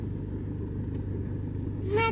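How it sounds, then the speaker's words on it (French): Car engine idling steadily with a low rumble throughout, close by, and a brief tonal chirp or squeak near the end; no talking. "C'est la voiture de poupou."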